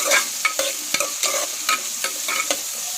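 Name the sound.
stirring chili curry cooking in a pan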